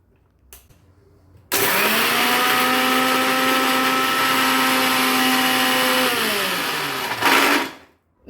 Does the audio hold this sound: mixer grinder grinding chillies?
yes